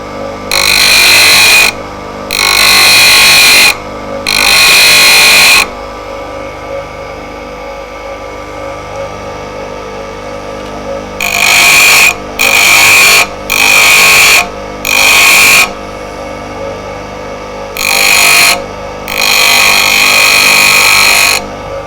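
A V tool is ground on a spinning grinding wheel, with a steady bright whine of metal against the abrasive. It comes as about eight loud bursts of a few seconds each, three early on and five later, separated by quieter stretches of the running wheel.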